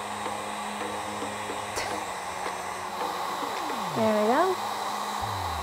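A heat gun blows a steady, loud whirring rush of air while shrinking heat shrink tubing on a power cable for a kayak fishfinder, with a brief spoken comment partway through.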